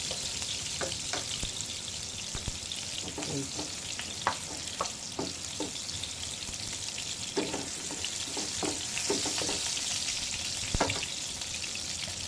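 Onions sautéing in a pan for pork steak, a steady close sizzle running throughout with frequent sharp clicks and scrapes of stirring scattered across it.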